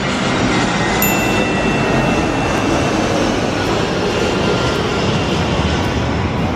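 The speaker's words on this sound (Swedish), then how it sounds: "det är ett flygplan som flyger precis bredvid oss" A loud, continuous roar of an airplane flying close by fills the scene, broad and steady, without talking.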